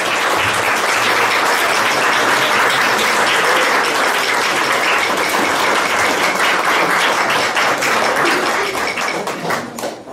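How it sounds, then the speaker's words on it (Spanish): Wedding guests applauding newlyweds Jose Luis and Maria after the ceremony, a loud, full burst of crowd clapping that holds steady for about nine seconds before tapering off at the end. "Un aplauso, por favor,"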